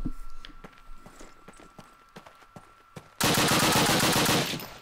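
Machine gun fire in Call of Duty WWII: a string of sharp, separate shots ringing out, then a loud, dense burst of continuous automatic fire close by for the last moments.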